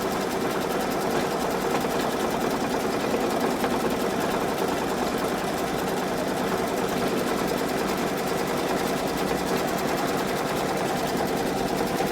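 An embroidery machine runs a steady, even stitching hum as it sews back around a seam in a double stitch, with no talk.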